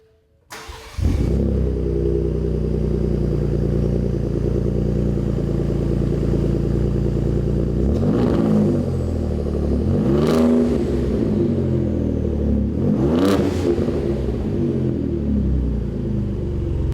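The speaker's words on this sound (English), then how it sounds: "So far, it sounds a little bit louder than stock." A 2017 Ford F-150 Raptor fitted with a Ford Performance touring cat-back exhaust starts up and settles into a deep, steady idle, then gets three sharp revs that rise and fall, loud and close.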